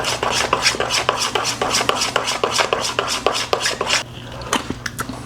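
Cinnamon roll ingredients being mixed in a dish, heard as a rapid series of sharp, close clicks and taps of a utensil against the dish, steady for about four seconds before trailing off into a few scattered knocks.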